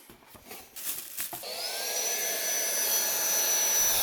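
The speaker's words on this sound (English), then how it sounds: "this time I got myself an air blower" An air blower cleaning PC parts starts after a few short bursts, then settles into a steady, loud, high-pitched whine with a rising tone that runs continuously to the end, with no talking.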